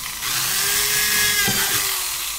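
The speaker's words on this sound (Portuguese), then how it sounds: "Vou furar do lado aqui, ó." A power drill bores holes through the side of a PVC pipe cap, a steady motor whine with a brief grinding catch as the bit bites, close and fairly loud throughout.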